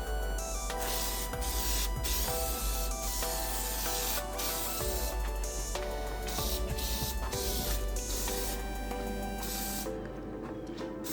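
Aerosol can spraying a heavy final coat of Plasti Dip onto a car's interior center console trim, a series of loud hissing bursts with brief pauses between passes, up close and alone.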